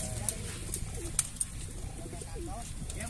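Racing pigeons coo softly and repeatedly at a busy pigeon-racing gathering where young birds are being trained, with a light murmur of background noise.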